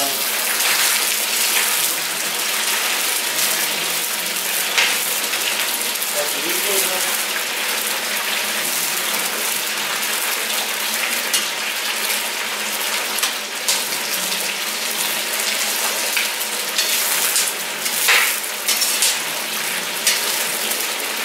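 Meat sizzles steadily in hot oil for chaikhana-style plov, a loud, dense, continuous frying hiss with occasional crackles and no talking.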